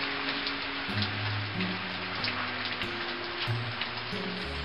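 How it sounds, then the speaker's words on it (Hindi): Heavy rain pours down in a steady, dense hiss that fills the whole clip, with a simple background music melody playing underneath. "इतने में उधर एक ही बार तेजी से बारिश गिरने लगा।"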